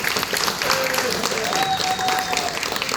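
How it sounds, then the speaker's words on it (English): Audience applause at a senior center talk, a steady wash of clapping from a seated crowd lasting the full three seconds, with faint voices mixed in. "Also, one big round of applause for Cal."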